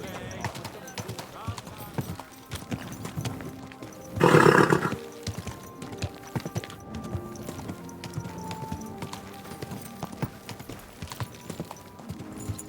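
Horse hooves clip-clop steadily in a medieval-setting video game, Kingdom Come Deliverance 2, with a loud whinny bursting out midway over background ambience.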